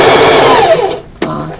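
A sewing machine stitching across the top of a piece of fabric, a loud close whirring run that slows and stops, followed by a short mechanical clack.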